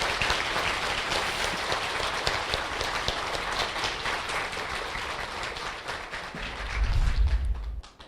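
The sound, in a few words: applause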